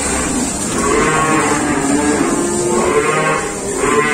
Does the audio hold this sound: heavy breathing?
no